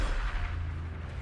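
A grenade goes off in Warhammer 40,000: Darktide, a deep, low rumbling boom that rolls on briefly over dull combat noise.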